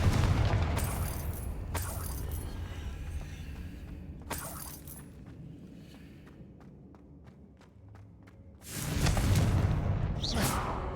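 Confringo blasting spell cast in Hogwarts Legacy: a sharp explosive crack and boom near the start, further impacts and rapid ticking debris, then a heavy rumbling blast near the end.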